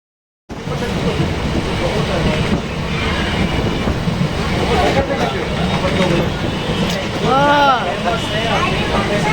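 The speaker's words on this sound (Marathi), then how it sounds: "इथे येऊन थांबली ट्रेन" Deccan Queen train running, a steady rumbling rail roar with rattling wagons and occasional wheel squeal, close and loud throughout, while people talk over it.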